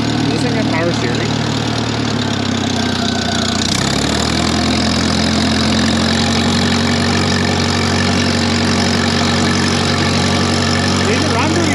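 A Case 800 LP tractor, run after years of sitting, drones with a loud, steady, close engine note as it is driven and shifted up through the gears, with a person talking over it.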